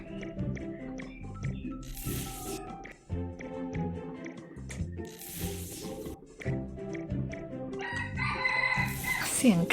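A rooster crows near a house, repeated calls standing out over clattering, ratcheting sounds and occasional background voices.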